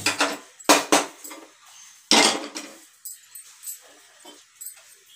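A metal kadhai set down on a gas stove gives a few sharp, close metallic clanks and knocks, followed by softer scattered taps in a quiet kitchen.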